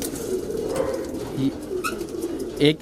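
High-flyer pigeons coo nearby in a loft, soft low throaty calls repeating, with faint voices in the background.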